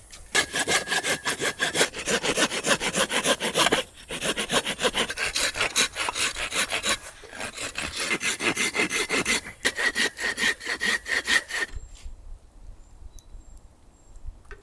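A hand saw cuts into dead wood at a bushcraft shelter site, its rapid back-and-forth rasping strokes steady and close for most of the stretch, pausing briefly twice before stopping near the end.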